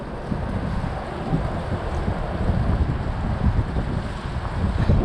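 Strong wind buffets the microphone of a Zino 2 drone in flight, a constant loud low roar and rumble filling the whole stretch without pause or voices.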